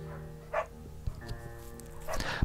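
A dog in the video game Firewatch gives a few short yips and barks over a steady tonal game music bed, fairly quiet with a couple of brief bursts.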